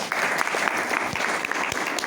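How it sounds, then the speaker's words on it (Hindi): A company meeting audience claps loudly, a dense, steady burst of many hands that continues alone without talk. "उसके लिए जोरदार ताली हो जाए"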